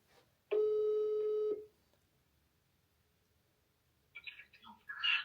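A single steady phone ringback tone of about one second sounds clearly while calling an estate agent back, followed by quiet and some faint rustling near the end.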